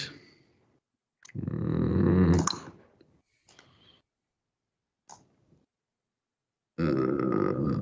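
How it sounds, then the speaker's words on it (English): A cartoonish burp sound effect plays during a Rocket Lasso particle demo, a rough, croaky belch lasting about a second, followed by fainter short bursts and another loud stretch at the end. "Burp."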